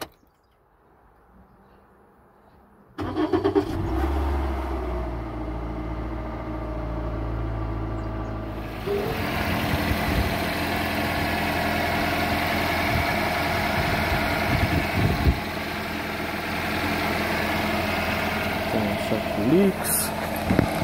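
Toyota Yaris engine started after an oil change: quiet shuffling, then the engine catches at about three seconds and settles into a steady, close idle hum that continues to the end, with faint clicks over it.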